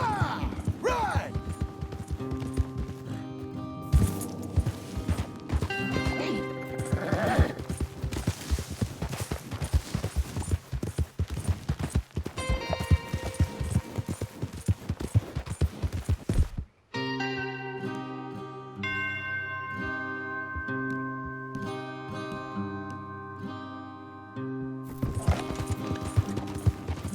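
Horses gallop with rapid clip-clopping hooves in Red Dead Redemption 2, close and busy, mixed with occasional gunfire and other game sounds, then a stretch of music and voices takes over midway.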